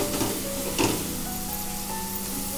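Spices for a Maharashtrian pithla tempering sizzle in hot oil, a close, steady crackle with a brief louder spurt of popping near the start.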